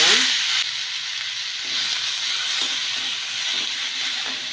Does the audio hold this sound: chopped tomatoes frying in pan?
yes